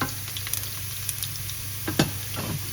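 Garlic fries in oil in a pan with a steady close sizzle and scattered light crackles and pops, no talking.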